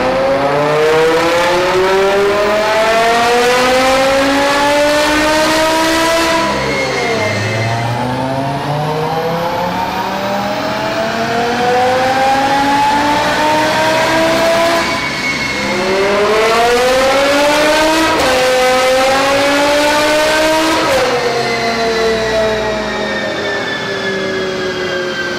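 A BMW M5 with its V10 engine fires up and revs hard, loud and close, with repeated rising and falling howls of revving across the whole stretch and no talk.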